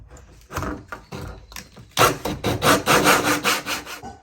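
A drill boring a deadbolt hole through a wooden door gives a coarse, rhythmic rasping that grinds in short strokes, then turns louder and denser after about two seconds. No one speaks.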